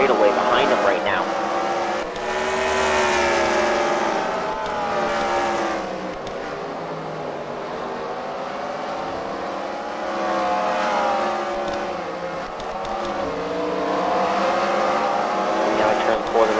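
Race cars at The Freedom Factory speedway roar around the oval, engines rising and falling in pitch as they pass and pull away. An announcer talks excitedly over the steady engine noise throughout.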